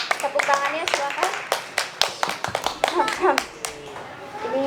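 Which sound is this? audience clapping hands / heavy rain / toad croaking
audience clapping hands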